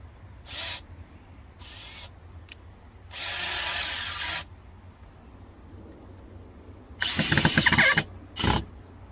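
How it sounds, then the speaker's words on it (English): DeWalt cordless drill driving a screw while building a pallet greenhouse, in several separate bursts of whirring motor and grinding screw, the last burst loudest and closest, with quiet pauses between them. "So my DeWalt, for whatever reason, it doesn't drive the screw in to where it,"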